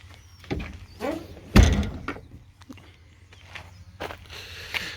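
Rear door of a cab-high ARE V-Series fiberglass truck camper shell with a single T-handle lock on a 2021-or-later Ford, giving a few hollow thunks and one sharp slam amid quiet handling noises.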